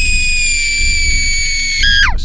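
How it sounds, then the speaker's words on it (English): A long, high, tonal scream-like cry holds steady and then slides sharply downward at the end, loud and close rather than distant, with no voices over it. "a scream. Far off,"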